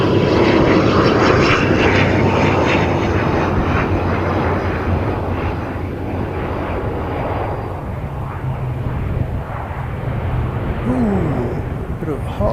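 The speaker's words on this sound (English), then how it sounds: "we've got a ATR coming in" An ATR turboprop airliner comes in to land, its loud propeller drone and engine roar steady and close throughout, with a voice briefly heard over it.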